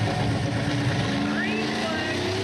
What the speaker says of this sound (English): The Diesel boost line up. You hear the RPMs up.